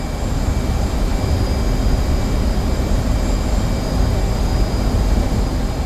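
A loud, steady jet roar from a fighter aircraft accelerating down the runway for takeoff in a flight simulator game, with a constant broadband rush and faint high whine and no break throughout.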